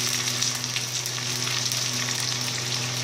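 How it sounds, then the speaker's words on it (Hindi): Curry leaves frying in hot oil for rawa idli tempering give a steady, dense sizzle that holds evenly throughout, close and fairly loud, with no voices. "कड़ी पत्ता को थोड़ा अच्छे से फ्राई होने दें, तभी अच्छा टेस्ट आएगा"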